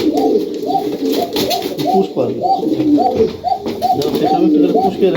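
Highflyer pigeons cooing in a loft, a repeated rhythmic throaty coo from several birds close by, with brief talk over it.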